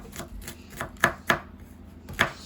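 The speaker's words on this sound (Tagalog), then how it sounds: "I-mince lang natin guys ang ating garlic." Garlic minced with a knife on a cutting board for a pork kinilaw with daikon radish: a handful of sharp, distinct chops with irregular spacing, close and fairly loud, no talking.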